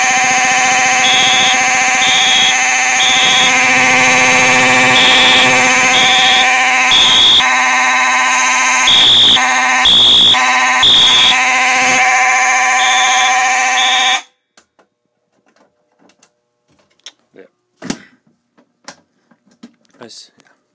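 A fire alarm system under test blares loudly and steadily for about fourteen seconds, a harsh buzzing tone with pulsing beeps layered on top, then cuts off abruptly, leaving a quiet room with a few faint clicks and knocks.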